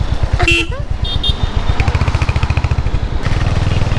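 A motorcycle rides through busy Puri streets near Swargadwar, its engine thrumming steadily up close while a horn toots briefly near the start and other traffic hums around it.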